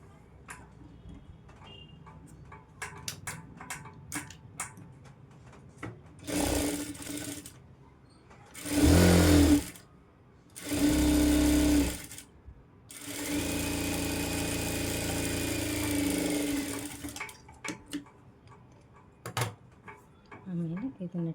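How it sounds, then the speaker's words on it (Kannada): A sewing machine stitches a designer blouse sleeve in several separate bursts of running, each a few seconds long with a steady whirring hum, alternating with quiet pauses and scattered small ticks and clicks of handling. "ಈಗ ಇದಕ್ಕೆ ನಾನು ಇದನ್ನು ಸ್ಟಿಚ್ ಮಾಡಿಕೊಂಡು ಇದನ್ನು ಸ್ಟಿಚ್ಚು ಮುಗಿಸ್ಕೋತೀನಿ"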